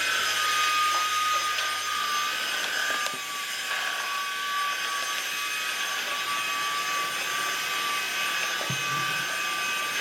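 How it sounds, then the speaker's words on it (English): A hoover runs across a small kitchen floor, a steady close droning whine with faint bumps and shifts as it moves, heard alone for the whole stretch. "I'm going to quickly put the hoover around this bitty kitchen floor."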